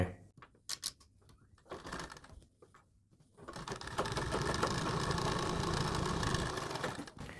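Sewing machine stitching pintucks into folded fabric for a boat neck design, starting with short stop-start bursts and then running steadily as a continuous close whirring drone for several seconds.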